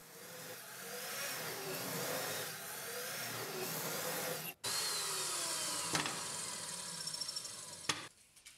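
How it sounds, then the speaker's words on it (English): A power saw cuts wooden rails to length for a paint-grade fireplace mantel, running as a steady, fairly quiet whine with a brief break partway, then a few clunks near the end. "Next, I cut the rails to length with the sanded edge facing forward so there's no blowout."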